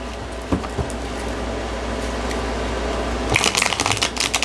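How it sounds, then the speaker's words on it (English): Tarot cards are shuffled close by in a quick riffle of rapid crisp flutters near the end, following a quieter stretch of low room hum. "and 7 more shuffles"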